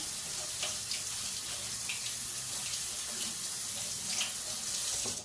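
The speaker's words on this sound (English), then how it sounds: "So now I'm just rinsing it." Tap water runs steadily over broccoli in a sink, a constant close hiss and splash with small shifting spatters as the florets are rinsed.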